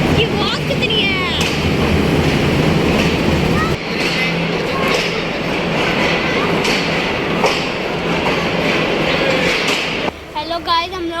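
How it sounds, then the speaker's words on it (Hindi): A train pulls into a station in Pakistan with a loud, continuous rumble and rattle of wagons and clacking wheels close by, while a crowd's voices carry throughout and the roar cuts off near the end. "गाइस ये देखिए हमारी ट्रेन आ गई है।"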